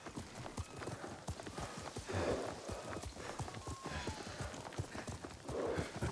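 Horse hooves clip-clop steadily at a riding gait in Ghost of Tsushima, a continuous rhythmic patter of close hoofbeats with soft ambient background and faint voices.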